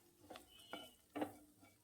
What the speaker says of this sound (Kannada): ಒಂದು 2 ಸೆಕೆಂಡು ಫ್ರೈ ಮಾಡ್ಕೊಳ್ಳಿ